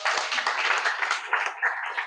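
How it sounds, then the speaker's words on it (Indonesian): A brief patter of clapping from a small group of students in a classroom, light and steady for a couple of seconds. "Tepuk tangan untuk kalian semua."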